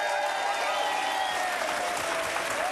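A studio audience at a comedy talk show breaks into steady, continuous applause that fills the whole moment with dense clapping and no pauses.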